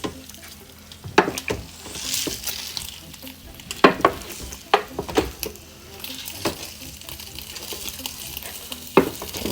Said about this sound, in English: So we're going to stir it up and bring those towards the center, scraping the bottom, scraping the sides,